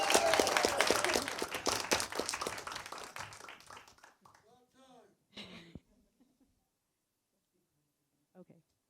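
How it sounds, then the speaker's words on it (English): Audience applause at a city council organizational meeting as an incoming council member is called forward, several seconds of steady clapping that thins out and gives way to nearby talk. "You can clap, by the way."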